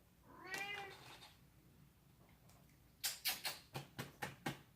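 A cat gives one short, wavering meow close by, followed after a pause by a quick run of soft, evenly spaced patters. Everything is faint in a quiet indoor room.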